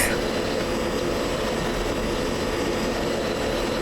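An F-16 jet engine runs up in a flight simulator game, a loud, steady roar that holds evenly from start to finish.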